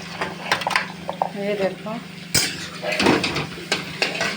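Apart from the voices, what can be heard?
stirring eggplant in a pan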